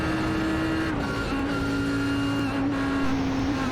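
A GT3 race car in the iRacing sim at Watkins Glen, its engine droning steadily and then faltering as it runs out of fuel, with no talk over it.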